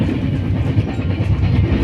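A train rumbles steadily along the rails, a continuous low roar with faint rhythmic clatter, heard from close by with no talking.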